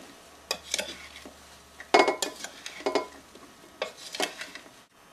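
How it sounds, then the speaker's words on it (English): Ingredients mixed together in a bowl, with a spoon scraping and clinking against the sides in irregular bursts, close and fairly loud, no talking. "Then we're just going to mix all the ingredients together."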